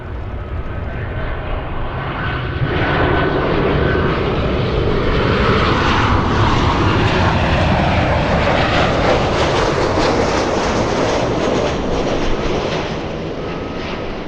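An American Airlines Boeing 737 arriving from DFW flies in to land at LAX, its jet engine roar rising steadily and staying loud and close, heard alone with no voices.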